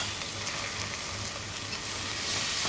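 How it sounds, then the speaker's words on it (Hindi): Chicken mince sizzles in a pan with ginger and garlic, a dense, even frying hiss heard close up with light stirring and no voices. "अब इसको अच्छी तरह भून लेंगे।"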